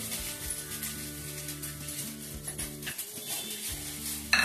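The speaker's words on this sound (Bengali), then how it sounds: "আলুর সাথে পনিরটা ভালো করে একটু ভেজে নিই" Paneer cubes and potatoes fry in a pan with a steady, broadband sizzle under faint background music, broken by occasional stirring scrapes and a sharper utensil clatter near the end.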